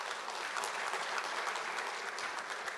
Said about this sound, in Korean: 감사의 의미로 박수 한번 보내주시죠